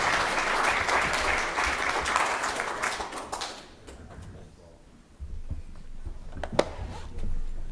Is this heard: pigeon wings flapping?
no